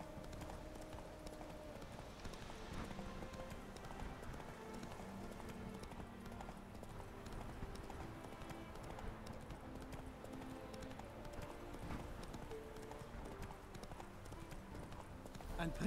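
Horses galloping in the Witcher 3 video game, steady rhythmic clip-clopping hooves running throughout at moderate volume, mixed with background game music and a voice talking.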